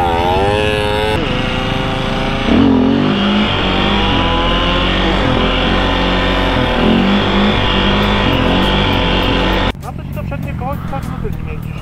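A dirt bike engine revs loudly and steadily up close, its pitch rising and falling through gear changes, with a voice talking over it.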